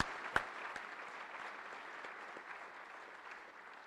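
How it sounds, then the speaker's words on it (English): Outdoor applause from an audience at a US Army Recruiting Command launch ceremony with a salute battery, faint and distant, a soft steady wash of clapping with one sharp nearer clap early on. "Let's give them and our salute battery and those who have supported this a great round of applause."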